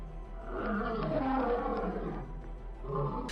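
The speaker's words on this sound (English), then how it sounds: "A lion's roar carries 5 miles across open grass." A lion on open savanna grassland gives a deep, rumbling roar that swells and sustains for a few seconds, heard alone over a low steady hum.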